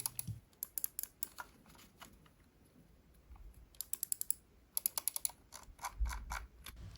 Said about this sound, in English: let's do quick sound comparison against the switches on Finalmouse Ultralight X